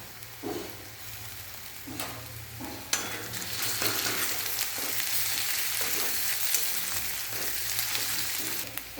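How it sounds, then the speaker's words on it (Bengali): Ginger paste fries in a pan with onion and garlic for a kohlrabi dish, making a continuous soft sizzle with the occasional scrape of stirring beneath a faint steady hum. "পেঁয়াজ রসুনটা একটু ভাজা হয়ে এলে এর মধ্যে দিয়ে দেব আদা বাটা।"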